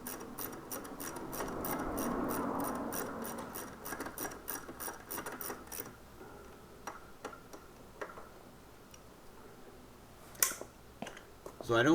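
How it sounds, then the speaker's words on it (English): Ratchet wrench clicking rapidly while tightening front brake caliper bolts on a Ducati M1100 Monster, a steady run of sharp close ticks that slows into sparse clicks, with a louder knock near the end. "we're going to just tighten down"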